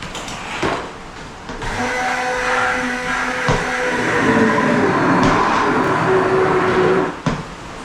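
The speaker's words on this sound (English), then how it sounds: "Now I've got a blender." A blender motor whirs loudly and steadily for several seconds while blending split pea and vegetable soup, its pitch shifting slightly as it runs, then cuts off abruptly near the end.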